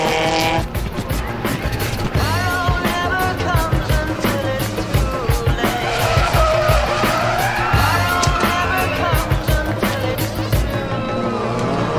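Honda race car of Alex Barriga at a mountain hill climb provincial championship final: a loud engine revving up and down through gears with tire squeal, close and continuous, with a commentator's voice faintly present.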